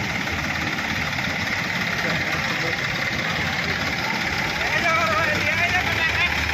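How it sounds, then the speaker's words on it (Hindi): A tractor engine runs steadily while pulling a tempo vehicle out of floodwater during heavy rain in Jaipur, a loud continuous rumbling drone with slight rises toward the end, with voices talking over it. "ट्रैक्टर से टेम्पो निकाल रहे हैं।"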